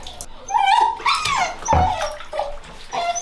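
A puppy whimpers and yips while being bathed in a tub of cloudy, soapy water, with splashing and water sloshing throughout as the whines rise and fall close to the mic.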